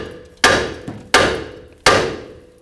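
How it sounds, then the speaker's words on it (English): Three sharp metallic hammer blows strike the side of a steering knuckle on a Nissan Frontier at a steady, deliberate pace, each hit close and loud with a short ringing decay, plus a lighter tap between. "Take a hammer, hit the side of the knuckle."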